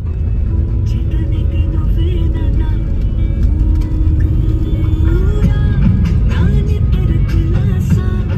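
A car on the road, heard from inside the cabin, gives a constant loud low rumble of engine and tyres, with small shifts in pitch as it moves along.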